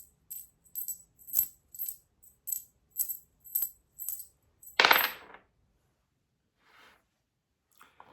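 Three coins are shaken and tossed for an I Ching reading, a quick run of about a dozen bright metallic clinks followed by a louder jingling clatter as they land, then quiet with a faint rustle.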